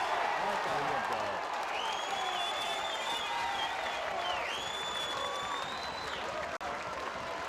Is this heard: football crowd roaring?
yes